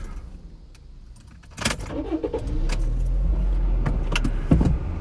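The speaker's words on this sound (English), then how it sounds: "Turn my car off." Keys jangle and click close by as a car is turned off, followed by a low steady hum from the vehicle with a few sharper clicks and thumps inside the cabin.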